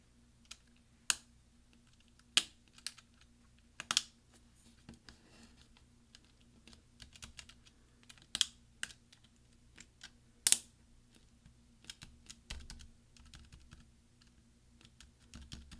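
Sharp plastic clicks and snaps of a caps lock keycap snapping into place on a 13-inch early-2009 MacBook Pro sound one after another at irregular intervals, fairly close and crisp against a quiet background hum.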